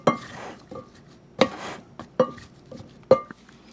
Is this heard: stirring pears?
yes